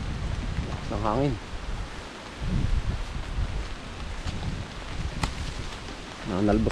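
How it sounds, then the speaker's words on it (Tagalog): Strong wind rushes and gusts across a cassava field in a soft, uneven roar that swells and fades, with a voice speaking briefly at the beginning and end. "Lakas ng hangin."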